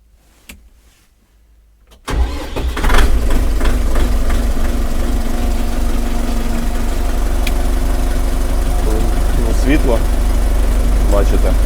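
An ENEY TY404C mini tractor engine starts after a brief quiet moment and settles into a steady, loud mechanical idle that carries on without a break.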